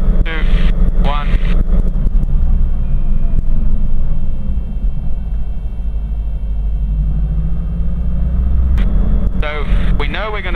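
A helicopter in a low hover near a runway threshold rumbles loudly and steadily, its engine note dropping as the throttle is closed for a simulated engine failure and it settles toward touchdown, with brief speech in between.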